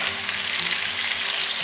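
Ground beef fries in a skillet over a campsite cooking setup, giving a steady, dense sizzle close by with faint stirring underneath, and nobody speaking.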